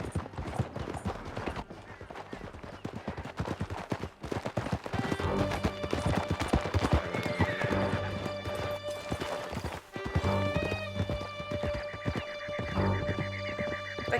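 Horses galloping in the Western video game Red Dead Redemption 2, with fast rhythmic hoofbeats pounding close by under steady tones of a music score that swells partway through.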